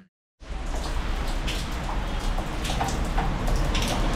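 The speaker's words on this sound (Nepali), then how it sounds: "पानी पऱ्यो हैट अहिले त सिमसिम परिरहेको छ" Rain falls steadily outside an office, a constant broadband hiss with scattered drop patters that begins abruptly after a brief silence and continues evenly, with no talk.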